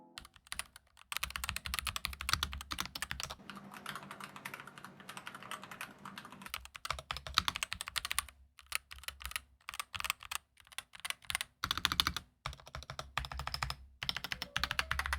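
An Epomaker HE65 Mag keyboard, a wireless board with silicone pads inside its case, being typed on steadily for about fifteen seconds, giving dense, close clacking keystrokes with a few brief pauses and no talking.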